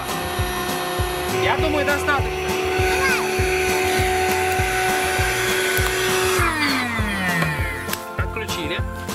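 Electric air blower inflating a children's bounce house, giving a loud continuous motor drone with a rhythmic pulsing flutter, which eventually winds down in pitch. Someone talks briefly over it.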